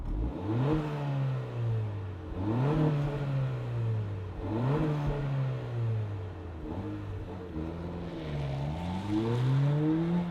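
A 2025 Acura Integra A-Spec engine running nearby, revved repeatedly in about five rising and falling sweeps over a steady idle, with no one speaking.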